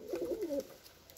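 A single soft pigeon coo, a low warbling call lasting about half a second, nearby and quiet, followed by stillness.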